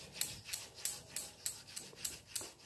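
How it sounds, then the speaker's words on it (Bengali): Sandalwood paste is ground against a stone in quick, regular rubbing strokes, about three per second, each a soft gritty scrape, close and alone. "ঠাকুরের জন্য চন্দন বেটে নিচ্ছি"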